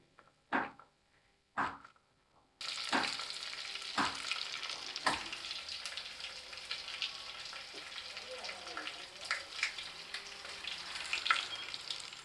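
Mustard seeds, fenugreek, cumin and curry leaves hit hot oil with a sudden loud sizzle and crackle that continues steadily, with a few sharp pops and stirring sounds before and during the frying.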